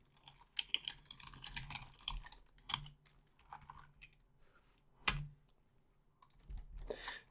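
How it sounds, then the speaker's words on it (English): Quiet computer keyboard typing, irregular bursts of soft key clicks with pauses between them and a sharper clack now and then, close by, with no talking. "I'm going to type in the server address out in"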